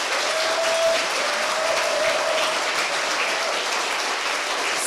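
Loud, sustained applause from a large audience at an awards ceremony, a dense and steady roar of clapping with a faint whistle near the start.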